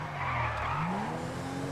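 A police-style car in an online role-play video game skids hard in a near-crash, a brief loud tire squeal over the engine's hum.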